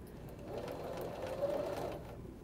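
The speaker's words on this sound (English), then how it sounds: "the 2 curves together as you sew all the way around" Sewing machine stitching a curved Drunkard's Path quilt block seam at a quarter-inch allowance, a fast steady whirring run of needle strokes that swells slightly midway before easing off.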